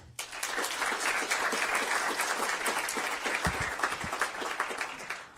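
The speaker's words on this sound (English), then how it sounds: "Can we have a round of applause?" A school board meeting audience gives a round of applause honoring school administrators, many hands clapping in a full, even burst that keeps steady for about five seconds before tapering slightly.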